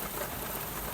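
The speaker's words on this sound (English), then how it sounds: "I'm sad I'm going to have to get back out in this rain." Steady rain falls outside, a dense even hiss with no distinct drops standing out, fairly loud and continuous for under a second with no voices.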